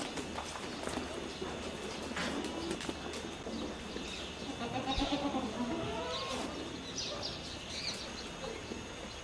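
Goat kid and goats bleating at a farm around a birthing, several short wavering bleats in the middle amid general barnyard noise and some background voices.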